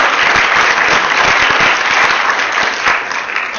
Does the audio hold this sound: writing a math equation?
no